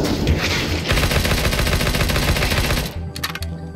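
Dense rapid gunfire in CS:GO, a loud, continuous rattle of close shots lasting about three seconds before cutting to a few scattered clicks and sharp taps, with no speech over it.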